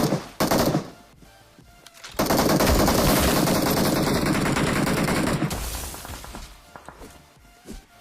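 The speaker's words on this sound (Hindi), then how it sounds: "लो भाई साहब यहाँ पर मिसाइल लॉन्च हो रही है रॉकेट लॉन्चर से" A rocket launcher fires a missile in the BGMI mobile battle royale game, with a brief loud burst, then a sustained roaring blast for about three seconds that fades into scattered game noise. Nobody speaks.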